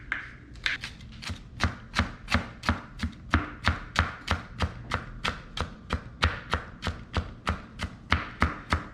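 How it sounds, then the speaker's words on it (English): Steady, rapid knife chops slicing jalapeño peppers on a cutting board, about twenty-five sharp close taps in an even rhythm, with no talking. "we're gonna cut these jalapenos up nice and small"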